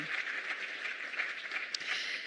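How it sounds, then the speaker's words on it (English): An audience at a climate resilience symposium gives panelists a round of applause, a soft, even patter of many hands clapping at a distance for a couple of seconds. "Please, a round of applause for them one more time."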